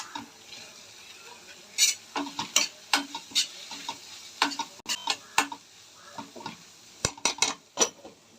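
A spoon stirs masala and chicken masala powder in a pan for a mushroom curry. It makes close, repeated scraping clacks against the metal over a faint steady sizzle, with no talk.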